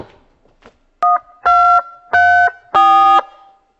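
A telephone dials a call, playing a short burst of faint clicks and then four distinct electronic keypad tones in a steady sequence, each a clear beeping chord, close and alone.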